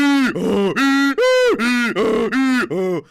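A donkey's bray, repeated hee-haw cycles in a strongly rhythmic series of about seven loud, close calls, alone with no other sound, as in a folk tale of animal musicians.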